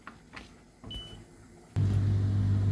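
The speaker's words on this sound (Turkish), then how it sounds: "Şu an makinem çalışıyor ve yıkıyor." Vestel 15-program dishwasher starting up, with a few soft clicks and a short beep before a steady low motor hum kicks in and runs close and even, with no talk.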